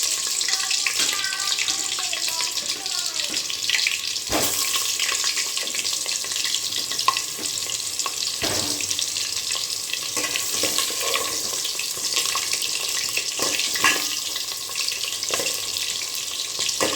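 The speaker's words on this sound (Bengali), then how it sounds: "তো তেলটা গরম হয়ে গেছে, এবার আমি আলুগুলোকে ভেজে নেব" Potatoes fry in hot oil in a pot, giving a steady, bright sizzle that runs throughout at close range, with a few sharp pops and spits along the way.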